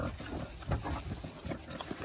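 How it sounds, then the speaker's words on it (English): A big pig at a farm animal sanctuary grunts and snorts several times in quick, uneven bursts over two seconds, close but fairly soft, with no talking. "Oh, there's a big pig."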